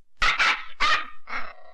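A dog in a 1989 Hindi film barks four times in quick succession, close and loud, with short gaps between the harsh barks and no talking.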